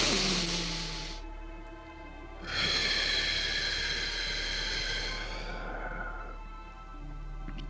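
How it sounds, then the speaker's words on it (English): Slow, deep breaths drawn in through the nose and let out through the mouth during a guided meditation, each a long soft airy hiss, close and calm over a faint steady hum. "let's take three nice deep breaths in through our nose, hold for a moment, exhale through our mouths"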